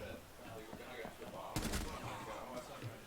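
Gunfire in Rainbow Six: Siege: a single sharp burst of shots cracks out midway, loud against a steady game backdrop with a voice talking around it.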